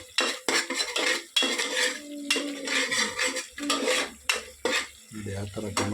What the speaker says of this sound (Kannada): ಚೆನ್ನಾಗಿ ಫ್ರೈ ಮಾಡ್ಬೋದು. ಫಸ್ಟ್ ಚೆನ್ನಾಗಿ ಕರಿಬೇಕು.